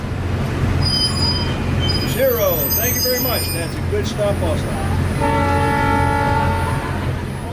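An old Alco locomotive train slows to a stop, with squealing wheels, hissing air and a horn-like tone sounding loud and close while someone talks over it.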